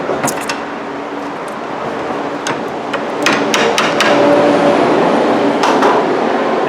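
Sharp metallic hammer taps on a rear brake part of a 2009-2014 Hyundai Sonata, several quick strikes in bursts, close and loud over a steady workshop hum.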